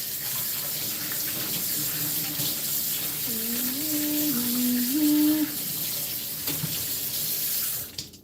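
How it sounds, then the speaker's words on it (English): Tap water runs steadily into a kitchen sink as an item is washed while a stew cooks, a constant loud rushing broken by short tonal squeaks midway, ending abruptly when the flow stops. "I'll wash this thing."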